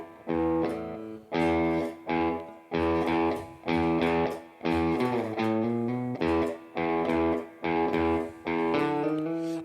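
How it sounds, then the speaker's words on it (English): An electric guitar plays a riff through an amp with reverb. Short chords repeat in a steady rhythm, each strike cut off before the next, with a little reverb tail after each one. "Now you can hear the reverb from my amp"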